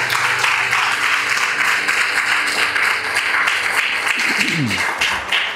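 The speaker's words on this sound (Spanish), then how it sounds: "Vamos a darle palmas al Rey de la Gloria" Congregation clapping in church during a worship service, a steady dense patter of hands that fills the room throughout, with faint voices and a brief tonal sweep near the end.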